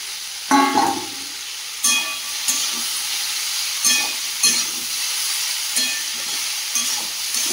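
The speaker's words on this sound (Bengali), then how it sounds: "আবারও ভালো করে কষিয়ে নেব।" Pumpkin curry with fried soybeans sautéing in a pan, a steady close sizzle broken by several sharp scrapes and clacks of a spatula stirring at irregular intervals.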